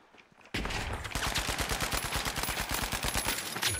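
Automatic gunfire in the shooter game THE FINALS bursts in abruptly after a brief quiet moment, then rattles on as a rapid, loud, evenly spaced stream of shots to the end.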